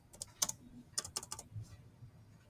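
Keys tapped on a computer keyboard in scattered short bursts, several quick clicks close together with pauses between, quiet and close with no voices.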